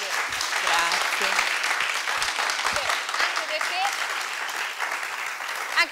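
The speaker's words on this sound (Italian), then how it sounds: "Facciamogli un applauso, vero, di incoraggiamento." Studio audience on an Italian television programme clapping in encouragement, a full, continuous burst of applause with a few faint voices underneath.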